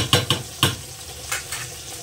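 Small tengra fish frying in hot oil in a pan, with a few sharp clinks and scrapes of a spatula turning them over a soft steady sizzle; the close, distinct knocks come first, then lighter stirring sounds.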